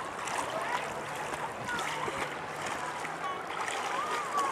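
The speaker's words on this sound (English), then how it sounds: "the wind is moving the water, and I'm standing in the water" Wind-blown water sloshes and laps steadily around someone standing in it near a lighthouse, with a continuous rushing wash of wind and small splashes close by.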